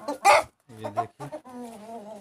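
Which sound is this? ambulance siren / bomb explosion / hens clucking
hens clucking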